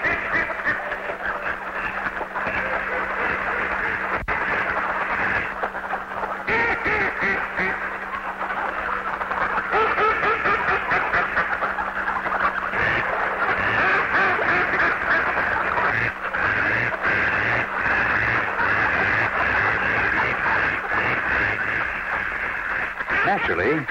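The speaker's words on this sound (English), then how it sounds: "Naturally, when so many members of the duck family meet, they have much to say." A large flock of ducks gathered on prairie water quack and chatter continuously, many overlapping calls near and far, with a slight radio-like tone to the recording.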